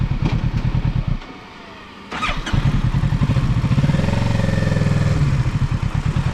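A Kawasaki 650 sports tourer motorcycle is started: a close, loud engine running with a throbbing pulse, a brief dip near the second second, then a burst as it fires back up and settles into a steady, revving idle with clatter.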